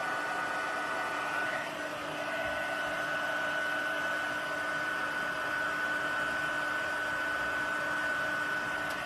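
A heat embossing tool blowing hot air, a steady, close whirring hiss with a fixed whine that holds evenly from start to finish.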